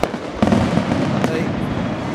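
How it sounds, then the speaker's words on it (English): Fireworks burst during a Pioneer Day celebration, a few sharp pops and crackles over a constant rumble, with people talking close by. "By the way, if you can barely hear us, the fireworks go off Pioneer Day."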